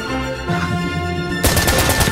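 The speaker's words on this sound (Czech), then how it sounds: "Někdo pana střílí." Gunfire in the tactical shooter game Insurgency: Sandstorm, starting with sustained rattling shots under a steady hum and then breaking into a louder, dense burst of rapid automatic fire near the end.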